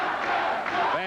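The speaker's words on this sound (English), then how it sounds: "Fans cheering now for a final flurry from the bantamweight champion" Boxing fans at a bantamweight title fight cheer and yell in a loud, dense roar, with a voice rising over the crowd near the end.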